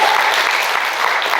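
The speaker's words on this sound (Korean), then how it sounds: "예배 드릴 수 있도록 인도하신 하나님께 감사의 박수." A church congregation claps in thanks to God during a Sunday service, a loud, continuous burst of applause with no pauses.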